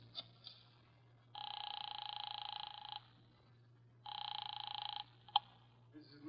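A 1950 office telephone in a detective radio drama: faint clicks of dialing, then two long, loud electronic ringback tones separated by a pause, with a sharp click after the second, over a low steady hum.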